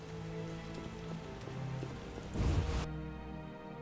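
Steady rain in the video game The Witcher: Enhanced Edition patters softly under low droning tones, swelling briefly into a denser splash before cutting off abruptly.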